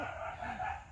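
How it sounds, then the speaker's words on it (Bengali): A dog in a village gives a brief whining bark, short and moderately loud over steady outdoor background noise. "একদিকে কুকুর ডাকে"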